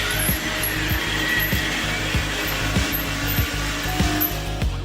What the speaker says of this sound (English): For a cheap Walmart screwdriver, it's a lithium-ion battery